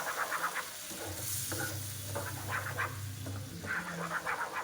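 Masala gravy with yogurt and spices sizzles steadily in a pan for a capsicum and onion sabji, with repeated scraping stirs of a spoon sweeping through it, close and moderately loud, with no talking.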